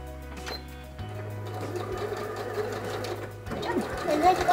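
A sewing machine stitches a changing pad cover in short, steady whirring runs that start and stop, with people talking over it.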